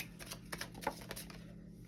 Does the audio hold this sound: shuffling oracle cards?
yes